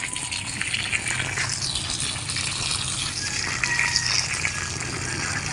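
Steady gushing water pours continuously onto newly planted lemongrass, a broad splashing rush with no pauses and no voices.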